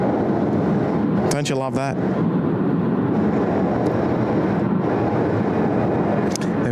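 Aircraft noise at Sydney Airport, a steady broadband roar that holds through the whole stretch, with someone talking briefly over it near the start.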